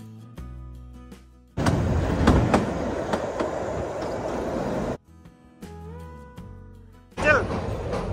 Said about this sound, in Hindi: आगे देख अंचल ट्रेन।